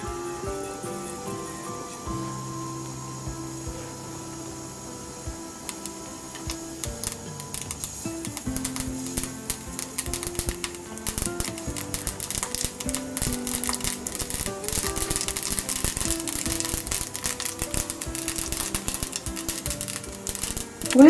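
Mustard seeds splutter in hot sesame oil while tempering a Chettinad mango pachadi, with rapid crackling pops that grow denser and louder over time.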